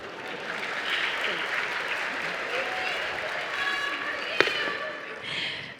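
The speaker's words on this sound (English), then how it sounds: "Let's give her a very small round of applause," A crowd at a high school commencement ceremony gives a round of applause, a broad wash of clapping heard steadily from a distance with a single sharp knock partway through.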